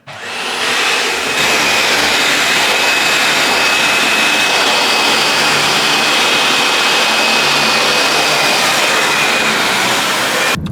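A household vacuum cleaner drones steadily during housework, starting up abruptly and holding a loud, constant whine for about ten seconds with no talk.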